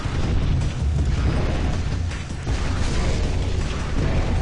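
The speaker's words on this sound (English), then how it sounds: "Let's get the rocket launcher." Rocket launcher blast in a video game, a dense sustained roaring rumble of explosions with heavy low end, continuous and loud for several seconds with no talk.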